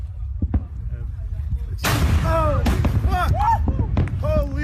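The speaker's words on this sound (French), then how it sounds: "c'est une onde de choc provoquée par l'explosion du volcan Unga Tonga dans le Pacifique donc" The Hunga Tonga volcanic eruption's shock wave strikes in the Pacific: a sudden loud boom with a broad rumble after, while people nearby exclaim and talk over it.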